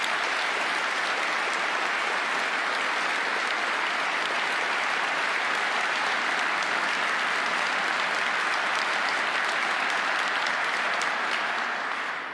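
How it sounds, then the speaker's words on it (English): An inaugural address audience gives state employees a sustained round of applause, a dense and even wash of clapping that holds steady throughout and tails off at the very end. "Would you give them a round of applause,"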